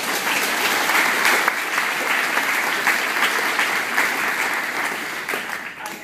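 A graduation-ceremony audience claps steadily for several seconds, dense and sustained applause filling a large hall, tapering slightly at the end.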